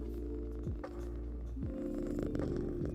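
Guinea pigs purring, a steady low rumbling vibration that runs throughout at close range, with a few faint thuds and shifts in the background and no talking.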